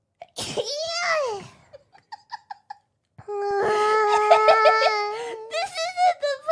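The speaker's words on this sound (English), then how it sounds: "This isn't the place to sneeze right now" A sharp, voiced sneeze bursts out near the start from a streamer during a live game broadcast, followed by whimpering, wavering vocal sounds and then a long, sustained, sung-like voice.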